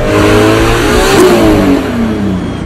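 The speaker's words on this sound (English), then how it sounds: "I'm pretty sure they used V8 noises for it" A V8 engine used as the movie sound for a Mazda RX-7, revving loud and close in one sustained roar with the pitch rising and then falling away.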